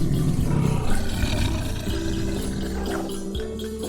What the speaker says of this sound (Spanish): el tigre